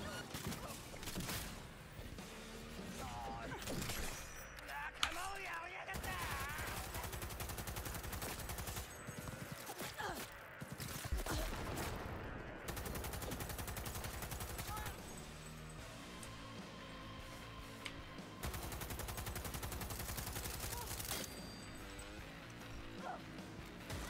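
Enemy gunfire in Cyberpunk 2077, with repeated shots and rattling bursts scattered across a long, fairly quiet stretch of game noise, while a voice talks over the action.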